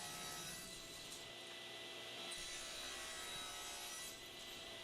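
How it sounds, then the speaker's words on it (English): A chisel paring away a small wooden nub on a dovetailed piece of furniture, producing a faint, continuous scraping and rubbing texture with no talk. "I just bring this over with a chisel and clean that up"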